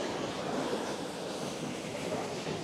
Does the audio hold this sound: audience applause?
no